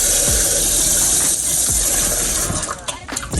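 Water runs steadily from a tap to rinse vinegar off raw meat, a loud splashing rush broken by a few clunks and rattles toward the end.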